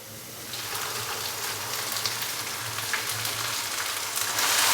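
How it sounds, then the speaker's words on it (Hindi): Ginger, garlic and green chili paste sizzles in hot oil with onions fried until brown, a steady close hiss that builds slightly louder toward the end, with no talk over it. "अभी मैं इसके अंदर 1 खाने का चम्मच भर के अदरक लहसुन और सब्ज़ मिर्च का पेस्ट डालूंगा।"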